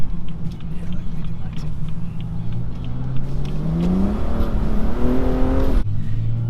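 BMW M2 exhaust revving: a loud engine note climbs steadily in pitch to a high peak, then cuts off abruptly and settles back to idle, with people talking alongside.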